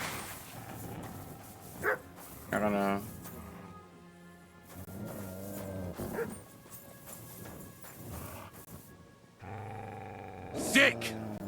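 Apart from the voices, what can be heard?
wild dogs barking, from video game Kingdom Come Deliverance 2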